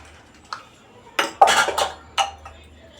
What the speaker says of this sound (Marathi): आता आपण याच्यामध्ये थोडी वेलची आणि गूळ मिक्स करणार आहोत.